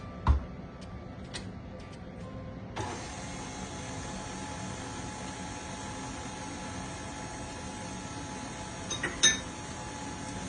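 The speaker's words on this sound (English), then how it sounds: "So we've got the dough hook on there now." A stand mixer fitted with a dough hook kneads white bread dough of flour and salt, its motor starting a few seconds in and then running as a steady, even hum close by, with a few light clinks.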